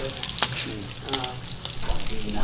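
Pork frying and sizzling in a pan, a steady crackling hiss with sharp spits and pops, close and continuous with brief stirring noises, no talk over it.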